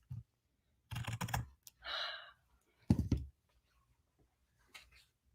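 Fabric scissors cut through fabric in a few quiet, close, crisp snips spaced by short pauses, with no talking.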